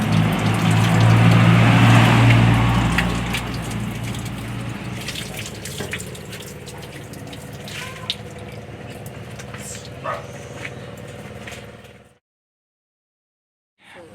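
Water is drawn from a village well pump in the Philippines: a strong gush pours out for a few seconds, then settles into a steady running splash with small knocks before stopping abruptly.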